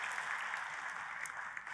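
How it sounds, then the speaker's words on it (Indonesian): Church congregation applauding during a sermon, a faint, steady wash of many hands clapping, heard from a distance without a break over its short span. "Tepuk tangannya pula yang paling meriah buat Tuhan kita."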